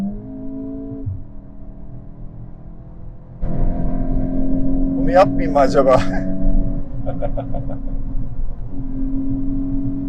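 Volkswagen Golf 8 GTI engine with a DSG gearbox revved while stationary: a steady idle jumps into a louder sustained drone with a few sharp blips, heard close, while people talk and laugh over it.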